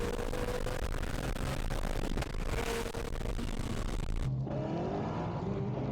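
A Corvette C6, a ZR or Z06, spins its wheels during a Texas street race, with a loud, sustained engine roar and tire noise close by. The sound cuts sharply to a lower, steadier drone near the end.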